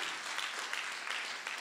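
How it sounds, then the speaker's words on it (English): A church congregation claps together during a men's fellowship moment at a first Sunday service, a steady, dense wash of clapping that holds at an even level for the whole short stretch, with no voices standing out. "Let's clap for men today."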